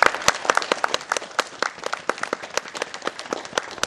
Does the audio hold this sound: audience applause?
yes